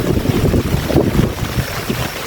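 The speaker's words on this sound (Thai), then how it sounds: "ที่สุดแล้วก็ทั้งฝนทั้งลม" Heavy rain and gusting wind outdoors in rural Laos, a steady broad roar of downpour with buffeting wind noise battering the microphone throughout, loud and close.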